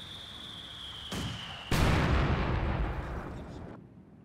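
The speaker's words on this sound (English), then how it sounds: "getting away from that mortar fire" Mortar fire in the strategy game Company of Heroes 2: a high whistle of an incoming round, a short thump, then a loud heavy blast that rumbles and decays over about two seconds.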